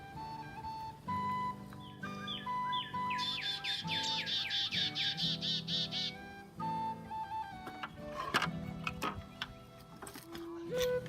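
Chickadees calling near a birdhouse, a series of high, rapid chirping phrases and whistled notes coming close and fairly clear over a quiet background.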